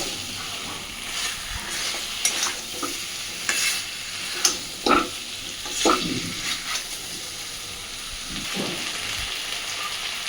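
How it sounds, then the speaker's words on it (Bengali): Chicken kosha stir-fried over a medium gas flame, steady close sizzling with scattered scraping and stirring clatters from a spatula, no voices. "আবারও মাংসের সাথে খুব ভালোভাবে সব কিছুকে কষাতে থাকবো"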